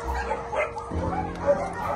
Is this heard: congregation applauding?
no